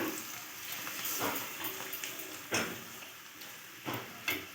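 Onions, garlic and curry leaves fry in hot oil, giving a steady close sizzle with a few sharp clicks of stirring against the pan.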